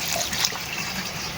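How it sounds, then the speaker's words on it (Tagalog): Water pouring steadily into a pot while pancit bihon cooks with kikiam, a continuous close splashing rush with no voices. "Tapos, lagyan natin ng tubig, guys."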